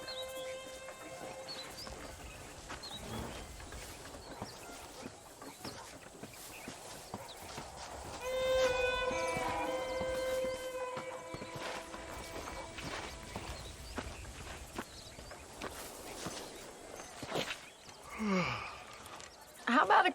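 Horse hooves clip-clopping in Red Dead Redemption, a steady rhythmic trot at moderate distance, mixed with ambient game sounds and a brief musical tone partway through, ending in louder rustle.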